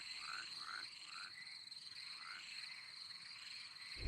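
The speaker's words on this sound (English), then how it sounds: "They're all frogs." Frogs croak in a haunted PS1 demo video game, a steady chorus of high chirping calls over a faint background hum, continuous and fairly quiet, with no talking.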